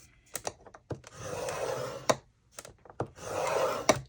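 A sheet of 12x12 craft paper being scored along score lines for a gift bag, heard as several close, dry scraping strokes with short taps and pauses between passes, no talking.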